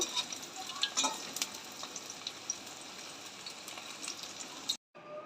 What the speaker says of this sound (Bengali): এটা আমার ভাজা হয়ে গেছে, তোমরা দেখতে পাচ্ছ সাউন্ডটা।